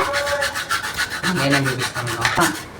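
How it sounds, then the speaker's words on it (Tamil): A lemon is grated in a home kitchen while lemon chicken is prepared, a close, repeated rasping scrape in even strokes with brief voices in the background partway through. "அண்ணா வந்து லெமன் கிரேட் பண்ணிட்டு இருக்கா."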